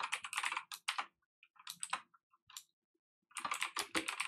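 Someone types code on a computer keyboard in quick, close clicking bursts separated by short pauses, with no other sound.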